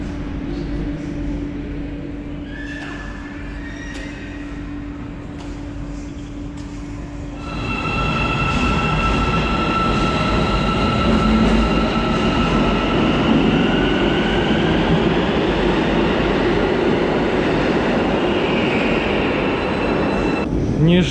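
An Almaty metro train pulls into an underground station, rising from a quiet hum to a loud, sustained roar of wheels with high squealing tones from the rails and brakes.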